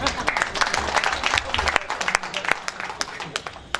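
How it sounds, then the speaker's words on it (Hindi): Audience at a Hindi comic poetry gathering claps, uneven bursts of applause rising and thinning with a few sharp individual claps, with voices talking over it. "ताली बजाइए"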